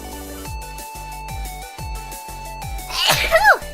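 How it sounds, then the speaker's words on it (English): A VTuber sneezes once, loud and close, a sharp burst near the end that follows a steady stretch of rhythmic game music. "I gotta sneeze."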